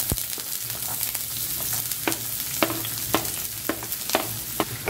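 Onion frying in hot white oil in a wok, a steady close crackling sizzle with repeated crisp clinks of a spatula stirring, no voices.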